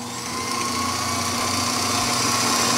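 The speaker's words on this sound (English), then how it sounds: "I normally take it on the little Cameron drill press" Small Cameron drill press spot drilling a center-punched hole with a 1/16 inch bit in a home machine shop, heard as a steady motor hum and whine that builds slightly and holds without pause.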